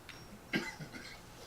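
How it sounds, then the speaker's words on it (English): A single short cough, faint and somewhat distant, in an otherwise quiet room. "Coughing there."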